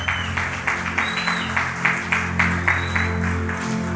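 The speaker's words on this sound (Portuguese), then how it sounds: "Você pode aplaudir ao Senhor por essa palavra?" A church congregation claps in a steady, rhythmic beat over sustained music, each clap landing as a distinct sharp hit at a regular pulse, with a short whistle-like tone rising briefly above it.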